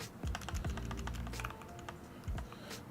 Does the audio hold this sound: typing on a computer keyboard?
yes